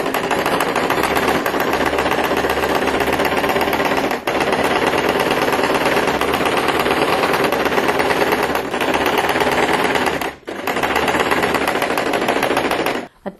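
A sewing machine stitches closed the top of a fabric bag organizer insert layered for bias binding, running as a loud, continuous rapid mechanical chatter for about thirteen seconds with a few very brief pauses.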